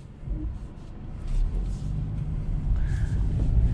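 A 2021 BMW 330i G20 sedan pulls away from a standstill, a low, smooth engine rumble building steadily from inside the cabin, quiet and refined with no spoken voices.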